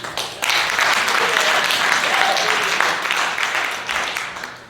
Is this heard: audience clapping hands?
yes